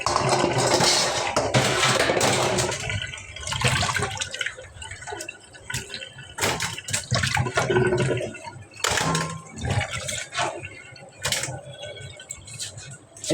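Water splashes and pours while cut fish is washed by hand in a container, with irregular sloshing bursts, rinsing gushes and light clatter from close by.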